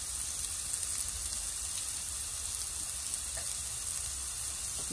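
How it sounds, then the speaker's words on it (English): Onions and bell peppers sizzle steadily in a pan, a soft, even crackle with no one speaking. "Let it cook till the onions soften a little bit and the bell peppers are slightly cooked"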